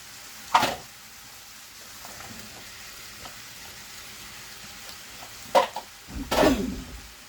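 Vegetables for a shepherd's pie fry in a pan with a steady low sizzle, broken by a few sharp clatters and stirring noises that get louder near the end.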